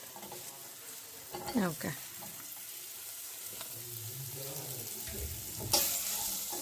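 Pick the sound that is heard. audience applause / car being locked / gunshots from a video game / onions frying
onions frying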